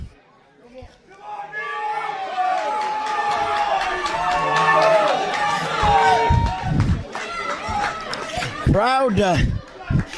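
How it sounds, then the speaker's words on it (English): A wrestling crowd at a Mayhem event chants rhythmically in support of Meathooks O'Bannon, a loud, sustained arena roar with shouts and a commentator talking over it. "Meathooks chants now ringing out."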